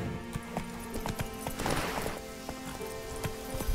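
Roach, a horse in the video game Witcher 3, gallops with a steady, close clip-clop of hooves, joined by game music and a brief rushing swell midway.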